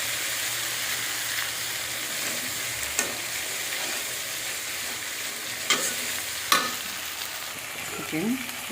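Poppy seeds fry in a pan with a steady, close sizzle that runs throughout, broken by a few sharp stirring scrapes and clicks; no one speaks.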